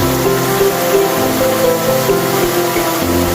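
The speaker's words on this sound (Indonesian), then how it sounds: "Itu dia air terjun." The Curug Ciwangun waterfall in forest, heard from above, a loud constant rushing roar of falling water with a steady broadband hiss, unbroken throughout.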